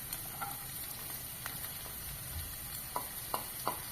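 Carrots and beans sauté in a pan with onion, curry leaves and ginger, giving a soft, even sizzle with a few light clicks of a stirring spoon toward the end.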